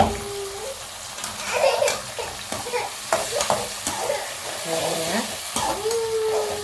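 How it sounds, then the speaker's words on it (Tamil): Tomato paste is stirred into sautéed onions in a pan for a black-eyed pea curry, with scraping strokes over a soft sizzle and faint background voices. "இப்போ நம்ம தக்காளி பேஸ்ட் அரைச்சி வச்சிருக்கோம் அதை அதை கலந்துக்கலாம்"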